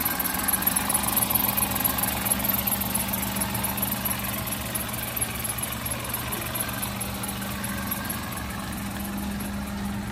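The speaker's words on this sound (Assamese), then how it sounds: "গাড়ী ষ্টাৰ্ট হৈ আছে" A Maruti Alto LX car engine idles with its air conditioning running, a steady, even hum with a faint rhythmic vibration, alone and close by.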